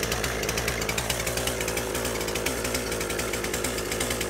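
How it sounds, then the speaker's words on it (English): Poulan Pro PR5020 chainsaw idling as it warms up with the choke halfway out, a loud close rhythmic two-stroke putter with a steady rapid pulse and no talk. "Now let the saw warm up for about 30 seconds with the choke halfway out."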